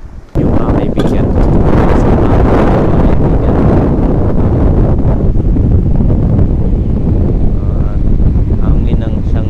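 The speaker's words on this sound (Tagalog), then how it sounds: "Hangin ang siyang nagising sa akin dahil yung tent natin ay talagang tinutumba niya." Strong wind at a riverside campsite by the Ambayaoan River in Pangasinan roars steadily against the microphone, pushing over a tent, a dense, blustery rush with rustling and flapping underneath, loud and constant throughout.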